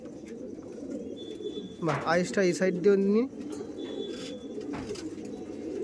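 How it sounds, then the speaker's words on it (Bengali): A pigeon, one of a flying breed, held up in someone's hands gives a short burst of throaty, rolling coos, close and clear, with someone talking briefly alongside and a faint outdoor murmur around it. "এই একটা পায়রা আপনার সামনে তুলে ধরছি দেখুন"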